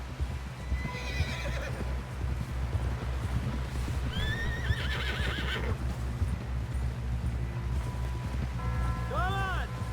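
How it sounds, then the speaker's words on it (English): A horse whinnies repeatedly over a constant rhythmic gallop of hooves, the neighs rising and falling, amid Red Dead Redemption 2 game ambience with voices in the background. "Someone help John down off this horse."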